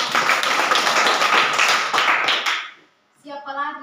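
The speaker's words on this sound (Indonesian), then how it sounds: "Mari kita berikan aplaus" Classroom applause for a student's answer, a dense burst of many hands clapping that stops abruptly, followed by a teacher's voice speaking.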